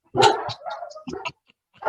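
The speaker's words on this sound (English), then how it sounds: "Seriously, that's the only time they bark." Two rescue dogs bark indoors in a home, reacting to someone at the door. A burst of several loud, close barks comes first, followed by a quieter run of barks and a final loud bark at the end.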